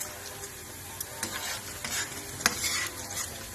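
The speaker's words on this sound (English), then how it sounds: "Just cook the eggs." Eggs fry in plenty of oil, giving a continuous close sizzle with occasional scraping stirs of a utensil.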